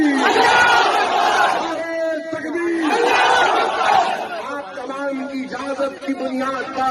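Crowd at a political rally shouting a religious slogan back in unison, loud massed chanted bursts in call-and-response rhythm, several shouts in a row with voices overlapping.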